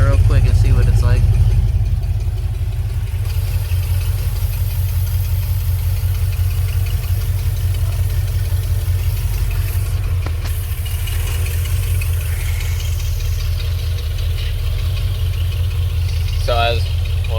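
A 1990 Ford E-150 Econoline van with a 5.8L engine and an E4OD transmission that won't shift into third or fourth runs with a steady, loud, close-up low rumble, holding an even drone throughout.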